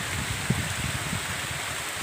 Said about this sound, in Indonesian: hujan selebat-lebatnya